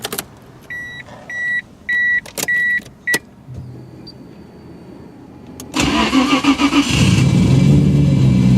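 1997 Nissan Skyline GT-R V-Spec R33 with a stock engine: chimes beep in short bursts, then the starter cranks and the engine catches and settles into a loud, rough idle, close by with no talking.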